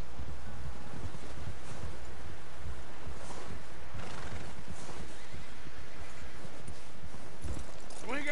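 A horse in Red Dead Redemption 2 neighs and whinnies while hooves clip-clop steadily underneath, close and continuous over a dense game soundscape.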